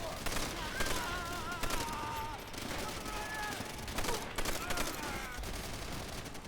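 In a World War II shooter game, a Japanese machine gunner fires sustained rapid bursts, a dense, continuous crackle of shots with other gunfire around it, while someone talks over it.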